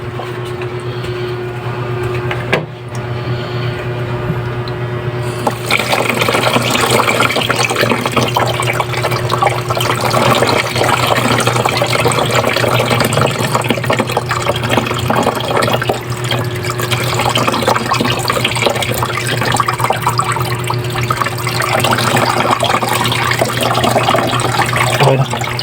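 Water poured steadily over salted bitter gourd to rinse it, a continuous loud splashing and gushing stream that runs for the whole stretch without pause.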